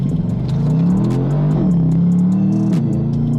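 A 1500 hp twin-turbo Ferrari F12 accelerates without nitrous, its engine droning loud and close with steady rising and falling revs and no voices.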